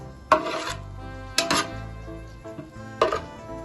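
A spoon clanks and scrapes against a cooking pot as boiled rice is mixed for chicken biryani. Three loud metallic strikes ring out at close range over a steady low hum, with no voices.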